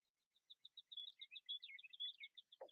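Small songbirds chirp outdoors in a quick, rhythmic series of high, clear notes, close and distinct against a quiet background, ending with a brief lower rustle.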